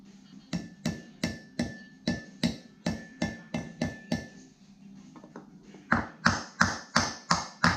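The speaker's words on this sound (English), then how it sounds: "I've got to get the seal, knock the seal in." A bearing seal being hammered into a trailer hub over timber, a run of sharp metallic blows at a steady rhythm, a brief pause, then a harder, louder volley of strikes.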